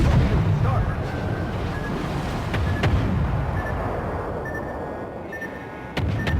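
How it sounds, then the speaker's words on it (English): Naval gunfire from a USS Benson destroyer in the World of Warships video game, sounding as heavy booming blasts over a constant rumble of sea and engine noise, with one sharp report near the end. "Benson's got pretty neat gun sounds, I'll say that."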